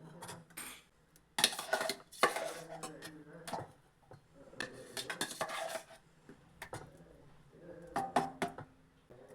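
Ground lentil paste is scooped into a vessel with a utensil, producing intermittent clinks and scrapes against metal in short bursts, fairly close and moderately quiet.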